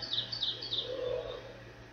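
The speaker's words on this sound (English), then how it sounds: "If you hear birds going tweet, tweet, tweet, tweet, it's a game." High, repeated video game bird chirps in quick short bursts over a steady low hum, fairly faint and thin, like a synthetic birdsong loop.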